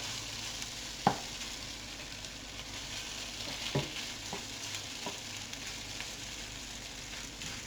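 Potatoes for Cajun hash browns crisping in a pan, a soft continuous sizzle and crackle with a few sharp pops and clicks from stirring or utensils, steady and moderately quiet, no voices.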